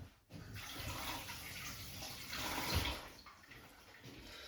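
Hands being wet under running water from a tap while making sourdough bread, a soft steady splashing stream, faint and close, with no talking.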